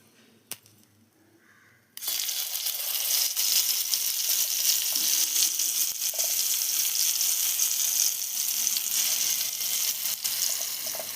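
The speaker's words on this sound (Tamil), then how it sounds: "இப்போ ஆயில் சுடான உடனே கத்திரிக்காவை எடுத்து அதில் போட்டுற போகிறோம்." Brinjal pieces drop into hot oil in a kadai after a quiet start, bursting into a loud, steady sizzle that continues evenly to the end; no voices.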